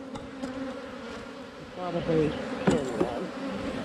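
Honey bees buzz around an open hive during a drone-layer inspection, a close, wavering hum with individual bees zipping past, while a person speaks briefly.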